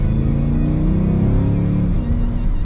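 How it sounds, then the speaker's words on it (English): The Hemi V8 of a 2020 Dodge Durango SRT growls with a deep, loud, continuous rumble from inside the SUV, holding steady throughout. "Oh yeah, we got that Hemi growl."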